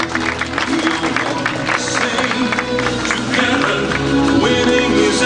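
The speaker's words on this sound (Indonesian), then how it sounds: "Aplaus ya teman-teman" An audience applauding at a gathering, a dense spread of clapping from many hands mixed with music and crowd noise, sustained and fairly loud throughout.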